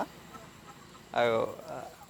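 A brief, close burst of chicken clucking rises out of quiet background noise, followed by a few softer clucks.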